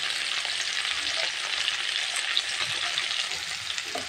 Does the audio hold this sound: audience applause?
no